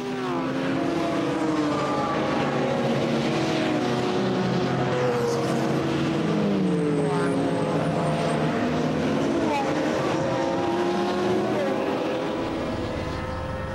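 Manthey Porsche race car entering the Carousel at the Nürburgring 24-hour race, a loud engine note rising and falling through the gears as it passes, under continuous commentary.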